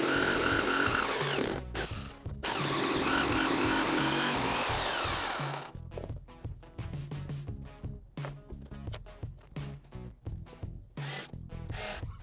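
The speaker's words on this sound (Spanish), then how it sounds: "desde la parte trasera, vamos a cortar el espacio de la caja utilizando una sierra caladora" A jigsaw cuts an opening for an electrical box through a melamine cabinet panel, a loud buzzing whine at first, then a stop and a rougher stretch of choppy, uneven cutting bursts, with no voices.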